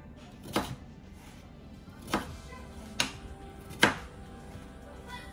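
Knife chopping through jicama on a cutting board, four crisp separated thuds at irregular intervals over a quiet kitchen background, no talking.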